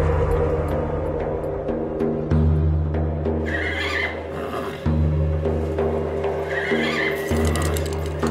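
A horse whinnies twice, loud and close, each neigh rising and trailing off over a low steady hum.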